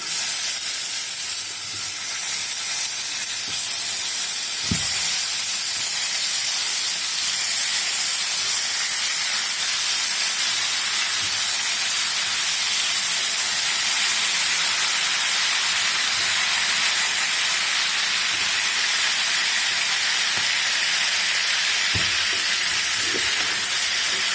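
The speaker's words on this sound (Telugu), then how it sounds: "ఇప్పుడు ఈ ఆయిల్లోనే వంకాయలు వేసేస్తున్నాను." Eggplant pieces frying in a pan of hot oil for a spicy Andhra-style egg masala curry, giving a steady, loud, continuous hiss and sizzle throughout with a couple of brief clinks, no voices.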